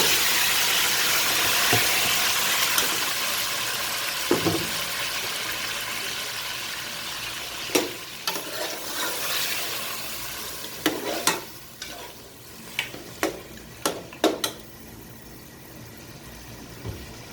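Mutton tipped into browned onions in a hot pan, giving a loud steady sizzle that slowly eases while a spoon scrapes and stirs in a string of sharp clinks and knocks near the end.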